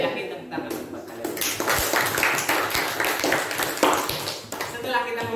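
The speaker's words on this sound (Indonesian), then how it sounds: "tepuk tangan buat kalian" Clapping from a school class as students applaud one another, many hands at once in a busy, sustained burst mixed with voices talking and calling out.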